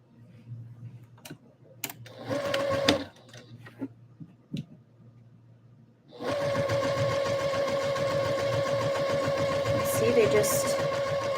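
Embroidery machine stitching out an order: after scattered clicks and taps, a steady, loud mechanical hum with rapid rhythmic stitching starts and runs continuously to the end.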